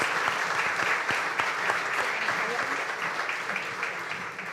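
A crowd at a live community crowdfunding event applauds steadily, dense clapping filling the room at a fairly even level throughout.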